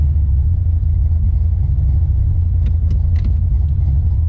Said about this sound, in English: When I hit the gas, it cuts out a little bit and it's running a little bit lean.